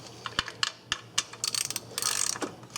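A ratchet wrench works on the 10mm bolts atop the alternator bracket of a 2004 Ford Crown Victoria, giving close, quick clicking bursts with short pauses between strokes, no voices.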